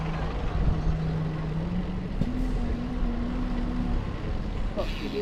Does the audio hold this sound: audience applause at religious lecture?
no